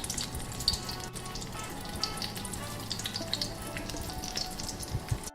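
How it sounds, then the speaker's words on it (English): Eggplant omelet with ground pork filling deep frying in hot oil, a steady close crackle and sizzle with scattered pops throughout, no talking. "We're kind of going to deep fry this omelet"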